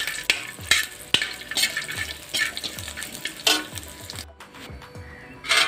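Peanuts and garlic frying in a pan while being stirred for a corn flakes mixture, with repeated scraping strokes of a spoon over a soft sizzle.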